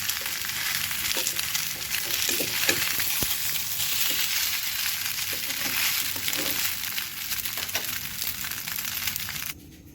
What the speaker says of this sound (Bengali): পিঠেগুলো দেখো ভাজা হয়ে গেছে